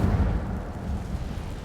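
Hogwarts Legacy's Incendio fire spell bursts out as a short, low whooshing roar of flame that starts strong and fades slightly over under two seconds, heard on its own.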